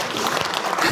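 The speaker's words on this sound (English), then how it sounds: "So give him a round of applause" A brief burst of audience applause, dense clapping from a room full of people at an annual roundtable event, loud and close with no voices over it.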